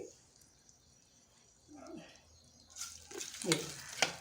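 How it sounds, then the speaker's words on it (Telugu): Hot tempering is poured into cooked dal and sizzles up sharply after a quieter start, a burst of crackle and hiss that swells and pops. "పప్పులో తాలింపు వేసాను"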